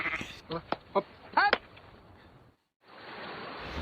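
A mother sheep bleats at a window, several loud wavering bleats close by in quick succession before falling quiet, with background noise returning afterward.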